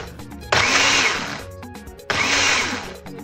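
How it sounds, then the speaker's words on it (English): An electric blender whirring loudly in two bursts, about a second and a half each with a short pause between, while mixing powdered milk, coconut oil, water and salt for homemade butter. "I put them all in a blender and gently stirred to mix them well."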